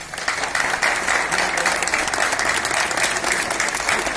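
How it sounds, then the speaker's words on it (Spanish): A May Day rally audience in Arriate bursts into sustained applause, dense continuous clapping from a crowd lasting the whole stretch, loud and even. "que nos demos todos un aplauso"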